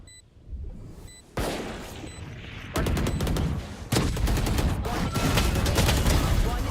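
Rapid, dense gunfire in a tactical shooter video game, several bursts of close shots that grow louder and busier, with beeps in between.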